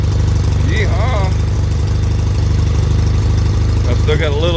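A 2004 Suzuki Bandit 1200 motorcycle engine idles loud and close with a steady, even pulsing rumble and possible exhaust leaks. Brief whistling or squeaky tones rise over it twice.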